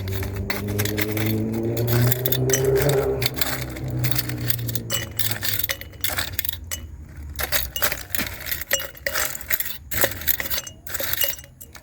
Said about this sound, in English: Just putting some cubes of ice into the glass.